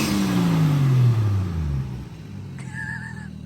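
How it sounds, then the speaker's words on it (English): Lexus SC300 with a 1JZ engine revving, a loud close rev that falls away in pitch over about two seconds, followed by quieter idle and a brief high whistle near the end. "rev this shit for me real quick"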